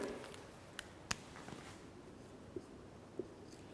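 Pen or marker writing a definition on a board during a chemistry lecture on ionic solids, faint scratchy strokes with a few sharp taps, quiet and close, no talking.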